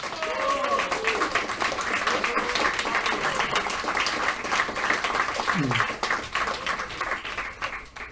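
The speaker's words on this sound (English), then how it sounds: "let's give a round of applause to Paco De La Banda." Audience applause at the 2018 Mind Sports Olympiad Pentamind World Championship victory ceremony: a dense, continuous clapping wash that holds steady for about eight seconds and eases slightly near the end, with faint voices mixed in.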